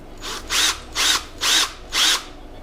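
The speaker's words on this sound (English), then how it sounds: "It's gonna drill a pilot hole in one of the holes here." A power drill whirs in four short, evenly spaced bursts, high-pitched and close, drilling a pilot hole in metal during a Porsche Boxster 986 rear main seal replacement, with quiet pauses between each run.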